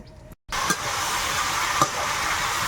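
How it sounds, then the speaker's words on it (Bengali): Malabar spinach (pui shak) fries in a pan with a steady, fairly soft sizzle after a brief silent gap. One or two light utensil clinks are audible, with no voices. "এদিকে তো পুঁই শাক ভাজা হচ্ছে"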